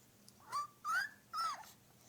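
A young child imitates a dog with three short, high yipping barks in an even rhythm, each voiced call rising and falling, close to the listener in a quiet room.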